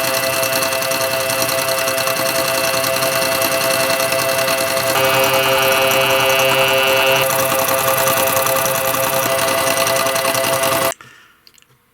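A mini air compressor runs loudly and steadily with a buzzing, droning motor tone that shifts slightly in pitch midway, then cuts off abruptly near the end as the air runs out.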